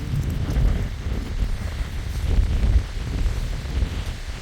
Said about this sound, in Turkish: Sağlam rüzgar var.